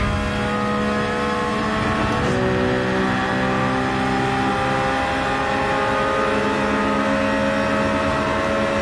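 A race car engine in Gran Turismo 7 drones loud and steady for several seconds, its pitch climbing under throttle after a shift, with no talking over it.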